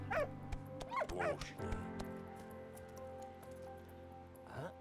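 In the Valiant Hearts: The Great War video game, a dog yelps, whimpers and gives short barks in several pained bursts over a quiet background hum, with a final whine near the end.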